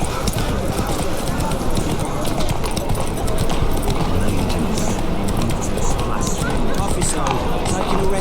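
Roach, a horse in The Witcher 3, gallops with a fast continuous drumming of hoofbeats under game ambience, with voices talking over the hooves.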